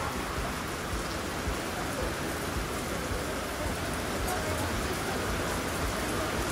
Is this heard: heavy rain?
yes